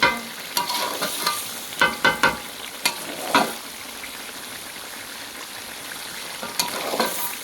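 Duck meat curry being stirred and cooked down in a pan, with sharp ladle scrapes and clinks in irregular bursts over a soft, steady sizzle, mostly near the start and again near the end.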